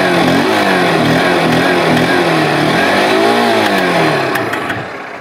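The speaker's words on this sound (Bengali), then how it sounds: "এক্সস্ট নোটটা আমি তোমাদেরকে একবার শুনিয়ে দিই" A Honda Shine SP 160 motorcycle's engine revs steadily close by, the exhaust note swelling once in pitch before easing off and fading at the end.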